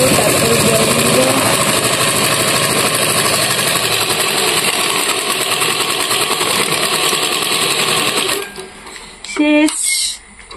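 A sewing machine runs steadily and loud for about eight seconds while stitching together a large sack bag, then stops, followed by brief thread-cutting clicks and shuffling.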